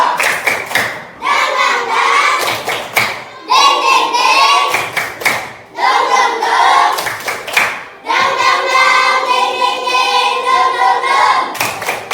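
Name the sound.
children doing a rhythmic spirit clapping chant (tepuk semangat)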